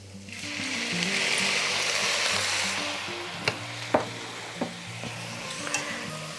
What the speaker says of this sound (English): I'm gonna add 2 cups of chicken broth, but I'm gonna do this really slowly so that I don't thin it out